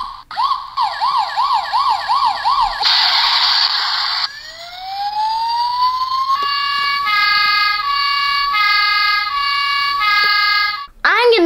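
Toy fire truck sirens sound in turn, loud and close: a rapid warbling wail, a harsh buzzing tone, a rising whoop, then a steady two-tone pulsing pattern, each cut off abruptly.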